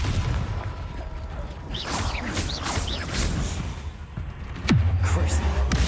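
A Confringo blasting spell explodes in the Hogwarts Legacy video game, a sudden deep boom after whooshing spell effects, with a rumbling tail under game sounds and a player's voice.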